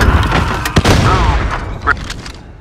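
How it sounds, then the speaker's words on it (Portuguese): Grenade blasts in an online shooter game, with sharp booms and bursts of gunfire over a steady rumble while a voice talks over the action. "Jogando granada."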